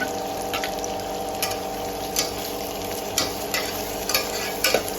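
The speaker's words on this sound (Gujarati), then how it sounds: "લસણ નાખીશું, વાટેલું લસણ છે." Crushed garlic sizzling in hot oil in a pan along with onions, a steady frying hiss with a few stirring clicks, close and moderately loud, no voices.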